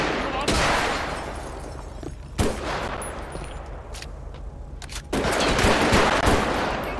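Video game gunfire in a 1v1 match: loud bursts of rapid shots with sharp single cracks in between, dense at the start, quieter in the middle, then a heavy sustained volley near the end.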